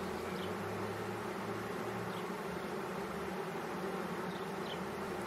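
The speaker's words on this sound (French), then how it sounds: "On voit des abeilles devant qui sont en train de battre le rappel." A honeybee swarm gathers at the entrance of an octagonal hive, a steady, dense buzzing drone of many bees at low level, continuous throughout with no voices.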